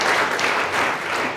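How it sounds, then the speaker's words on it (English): Applause and clapping from an audience at a marketing event in San Francisco, a dense, steady patter of many hands filling the room for a brief moment with no speech over it. "can you guys just give them a quick round of applause"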